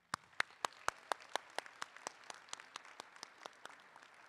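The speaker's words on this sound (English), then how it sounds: "Let's give a round of applause for our two distinguished alumni." Sparse applause at a nursing commencement ceremony, a handful of distinct claps in a loose steady rhythm over a faint background of scattered hands, fairly quiet and fading slightly toward the end.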